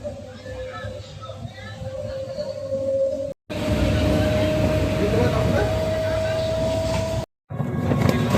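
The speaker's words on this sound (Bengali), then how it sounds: "ট্রেন ঢুকছে" A train pulls into a busy station in heavy rain, its sustained tonal hum and rumble running under a crowd murmur, with an adult and someone talking nearby.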